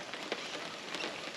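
Rain falls outside a camper in Australia, a steady soft hiss of drops pattering on a surface, brief and even.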